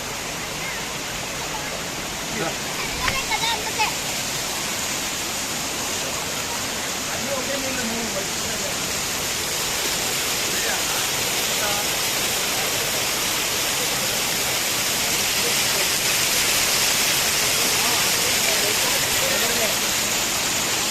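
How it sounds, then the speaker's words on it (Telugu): A forest waterfall at Maredumilli pours with a constant broadband rush of falling water that stays dense and unbroken from start to end. "సో చూడండి ఫ్రెండ్స్, వాటర్ ఫాల్స్ ఎట్లా వస్తాయి."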